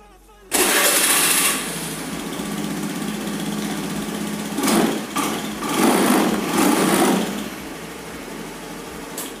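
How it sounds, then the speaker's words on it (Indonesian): A fuel-injected motorcycle engine catches after the fuel pump primes, starting abruptly and settling into a steady, buzzy, close idle with a couple of brief revs, continuing throughout. "langsung saya hidupkan motornya."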